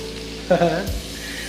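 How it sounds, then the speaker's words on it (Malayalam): Fish fries in a pan in a small bachelor-room kitchen, a loud, close burst of sizzling that flares suddenly and then settles back to a low background. "ഒരു ചട്ടിയിൽ മീൻ ഇങ്ങനെ പൊരിഞ്ഞുകൊണ്ട് നിൽക്കുമ്പോൾ"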